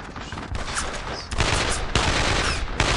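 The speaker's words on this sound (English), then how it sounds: "Assault rifle." Assault rifle gunfire in the Brothers in Arms video game: loud, dense bursts of shots in rapid succession with a few sharp, separate cracks.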